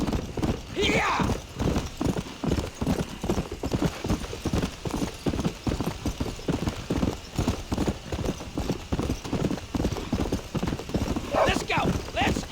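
Horse hooves galloping in Red Dead Redemption, a rapid, steady clip-clop rhythm carrying through the whole stretch, with a brief whinny near the start and another near the end; the rider shouts over the pounding hooves.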